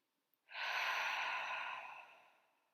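A single long breath during a heart-opening yoga flow, drawn in or let out audibly in a smooth rush that swells quickly, holds steady, then fades gently over about two seconds; close and alone, with no talking.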